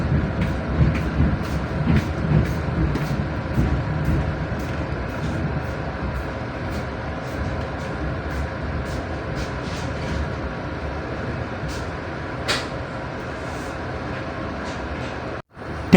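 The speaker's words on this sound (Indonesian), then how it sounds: "saat ini kereta api Wijaya Kusuma yang saya naiki pada perjalanan kali ini sudah diizinkan berangkat kembali meninggalkan stasiun Rogo Jambi." Wijaya Kusuma passenger train at Rogojampi station, a steady loud rumble of the train throughout with faint clicks and rattles, ending with a brief sharp cutoff near the end.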